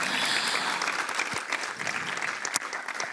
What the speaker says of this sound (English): Another big round of applause for the two of you